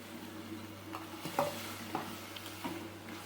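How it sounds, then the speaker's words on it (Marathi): Bitter gourd going into a pan with melted jaggery and lemon, cooking with a soft steady sizzle and a few close clinks and stirring knocks from a utensil against the pan. "आता हे कारलं टाकूया."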